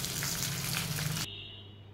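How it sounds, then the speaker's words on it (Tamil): Cooking oil heats in a pan for ragi vermicelli on a home stove, giving a steady close sizzling hiss that cuts off abruptly partway through, leaving only a faint low hum. "இப்போ நம்ம ராகி சேமியாக்கு ஆயில் ஊற்றிட்டேங்க."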